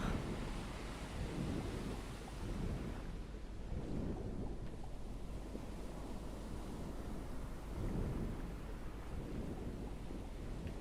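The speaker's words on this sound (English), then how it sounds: "a storm coming" A thunderstorm in the survival game Stranded Deep: steady loud rain and wind with deep rolling thunder swelling in waves across the whole stretch, no voices.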